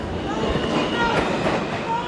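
A subway train rumbles and clatters as it pulls into a station platform, a steady close roar with faint wheel squeal and a murmur of voices in the background.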